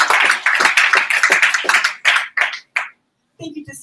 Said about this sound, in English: So let's give him a hand of applause.